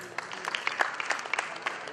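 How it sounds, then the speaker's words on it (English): An audience at an awards ceremony gives a short round of applause, light and scattered, with individual claps standing out. Murmured voices can be heard underneath. "A big applause for all of them."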